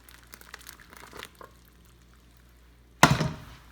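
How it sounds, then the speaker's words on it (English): Cheese pours over cooked macaroni in a pan with a sudden wet, thick splatter that fades quickly, following a few quiet handling clicks. "this time I'm going to pour the cheese"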